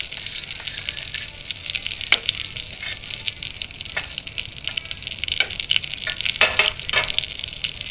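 Paneer butter masala gravy with Kashmiri red chilli and turmeric sautés in a pan, giving a continuous close sizzle with periodic stirring scrapes and clicks throughout and no voices.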